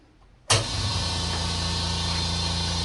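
California Air Tools 8010ALFCAD quiet air compressor switching on after near silence, then running with a steady, even motor hum at moderate level.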